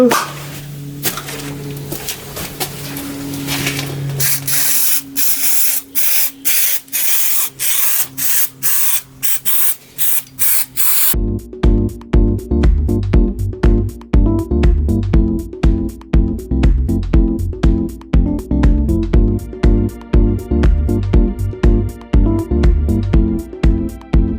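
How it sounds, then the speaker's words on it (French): A compressed-air blow gun cleans the cooling fins of a Wolf moped engine with loud, close, rapid hissing blasts, first looser, then a long run of regular pulsing bursts. "Donc là, Boulon va finir par un grand coup de soufflette."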